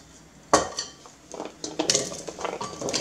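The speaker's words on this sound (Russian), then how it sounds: "Высыпаем сюда половину приготовленной тыквы" Solid pieces of prepared pumpkin, about one kilogram, tumble into a metal pot with water, with a sharp initial clatter, followed by scattered knocks and scraping as they settle.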